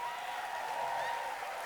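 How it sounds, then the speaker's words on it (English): Crowd at an election-eve political rally in Virginia Beach clapping for the Republican team, a faint, steady wash of distant applause with a tonal hum running underneath. "Go ahead and clap for this team."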